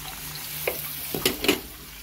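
Peppers and onions frying with stir-fry sauce in a home kitchen pan, a continuous crackling sizzle with a few sharp clinks and stirring scrapes up close, no talking.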